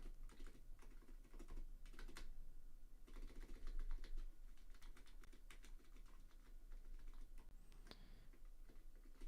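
Rapid, irregular clatter of keys on a computer keyboard during a game of Deltarune, close and steady throughout with clusters of quicker taps and no talking.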